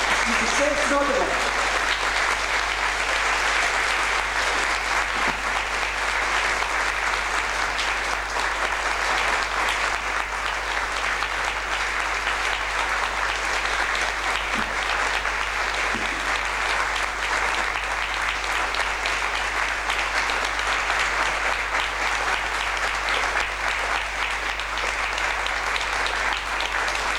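Sustained applause from a literary audience in Zagreb for an author, steady and dense for nearly half a minute with no break, filling the room at an even level.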